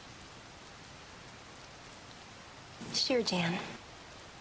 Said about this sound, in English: Yep. It rained.